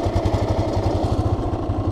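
A motorcycle engine runs steadily and loud throughout a ride with a learner rider, its low pulsing throb continuous and close, with no talk over it.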